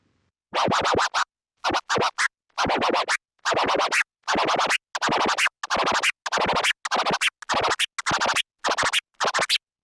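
Rapid turntable scratches in quick, choppy bursts separated by short silences, crisp and close with no voices.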